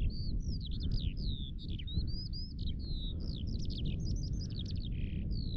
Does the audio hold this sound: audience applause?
no